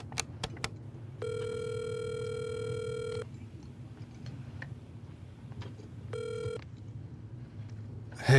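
A telephone rings in two bursts, a long ring of about two seconds followed by a shorter one, clear over a low steady background hum in an indoor scene.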